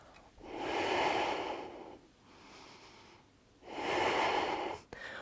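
Deep breathing during a vinyasa yoga flow: two long, loud breaths with a softer one between, close and steady, ending in a short sharp intake.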